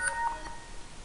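Teleport notification tone on an Android smartphone, a short synthetic chime of a few bright electronic beeps played alone with no talk.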